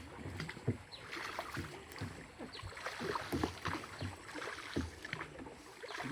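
Oars or a pole working a wooden boat along a river toward floating guava orchards in Jhalakathi, with repeated knocks and water splashes at an uneven rhythm, close by and moderately loud, no talking.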